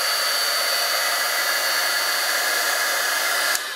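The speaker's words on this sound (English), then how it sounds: "So first, here's the old heat tool." An old heat embossing tool blows hot air in a steady, loud, broadband whoosh that holds level throughout and cuts off abruptly near the end, with no voices.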